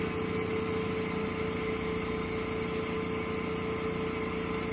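A Laurell WS 400B spin coater motor runs up toward 6,000 RPM, producing a steady, even mechanical whine and hum with a faint rhythmic vibration, constant in level with no voices.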